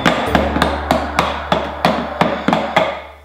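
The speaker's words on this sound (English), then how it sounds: "hitting the engine with a screwdriver with a mallet is always a great idea for fixing things" A toy mallet tapping a screwdriver against a toy race car engine, about ten sharp, evenly spaced knocks under a steady low hum, with nobody talking.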